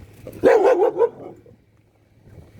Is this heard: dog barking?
yes